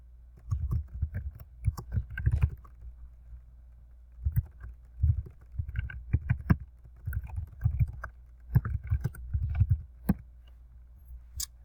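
Keys tapped on a computer keyboard while entering instructions into a Google Slides presentation, coming in quick uneven bursts of clicks with short pauses between them, close by and with no talking.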